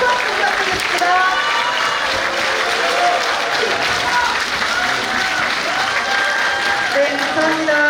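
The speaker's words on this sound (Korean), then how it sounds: "다시 한번 큰 박수 부탁드리겠습니다." A crowd at a political party's founding ceremony applauds loudly and continuously, with a speaker's amplified voice talking over the clapping.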